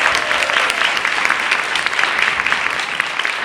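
Short burst of audience applause for a conference speaker at a festival, dense and fairly loud clapping from a crowd with no talk over it.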